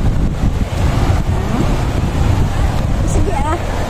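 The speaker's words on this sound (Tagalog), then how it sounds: "natatakot siya kasi ang lakas ng hangin." Strong wind roars across a beach resort, buffeting the microphone in a dense, continuous rush with faint surf underneath and brief voices cutting through.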